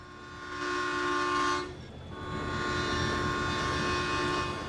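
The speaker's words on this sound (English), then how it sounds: "There's the train." A train rolls past in the video game Farming Simulator 17, sounding a sustained horn toot over a steady rumble that briefly dips, then rises again as it passes nearby.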